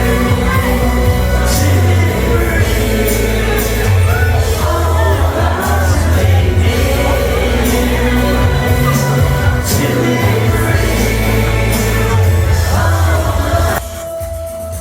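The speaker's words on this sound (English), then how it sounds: "The crowd were getting involved" A large crowd at a concert in Benidorm, loud and continuous cheering, shouting and singing along over amplified music, then dropping away abruptly near the end.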